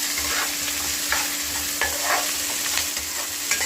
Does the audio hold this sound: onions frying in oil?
yes